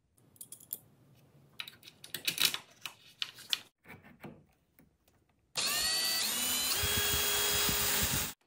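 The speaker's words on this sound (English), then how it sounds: "I can use that same step bit and just kind of open it up" A step drill bit widens a hole in a suitcase handle: a few seconds of scattered handling clicks, then a sustained loud whirring drill grind that runs steadily to the end.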